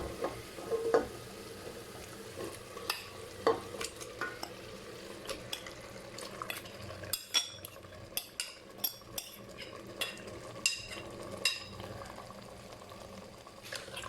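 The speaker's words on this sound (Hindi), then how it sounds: "और गोश्त को 5-6 मिनट में भून लूँगी।" Mutton cooking in oil and masala in a pan, with a steady sizzling frying hiss and repeated light scraping and clinking of a spoon stirring against the metal throughout.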